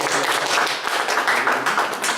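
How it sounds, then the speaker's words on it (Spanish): Audience applause right after a talk on love and transcendence, a dense continuous patter of many hands at moderate level with no speech over it. "Un aplauso para ella."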